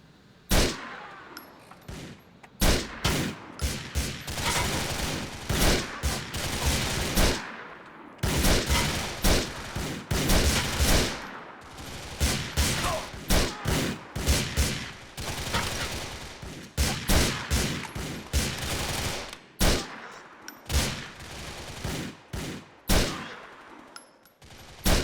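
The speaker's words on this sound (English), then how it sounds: "I just sniped these guys" Gunfire in GTA IV, sniper shots in a firefight against Russians, sharp loud cracks coming in bursts and rapid clusters with short gaps, close and dense throughout.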